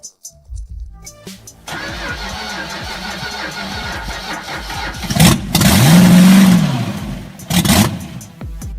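An old 4.3-ton drag-racing car fitted with a Continental tank engine cranks, catches and idles roughly, then revs hard in a deep, loud surge before dropping back and blipping again.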